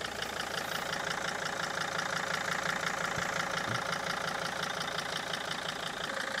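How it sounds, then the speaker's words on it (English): A cold 2004–2006 Mercedes T1N Sprinter van engine idles in a steady, even diesel clatter with a fine rapid knock, close and unbroken, with no talking. "with the van running"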